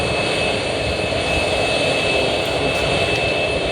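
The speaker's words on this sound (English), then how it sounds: "Here comes the big jet blast" Jet blast roars from an aircraft engine at Ottawa Airport, a loud, constant broadband rumble and roar close by with no voices over it.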